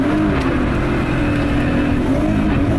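A Nissan Skyline R32 with an RB25DET engine, a JDM import, drives with a loud, continuous engine hum and steady road roar, heard from inside the car without a break.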